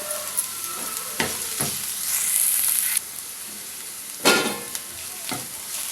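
Curry leaves go into hot oil for Telugu-style egg rice, giving a crackling sizzle with spatter bursts and stirring scrapes, a stronger hiss flaring midway, close and alone.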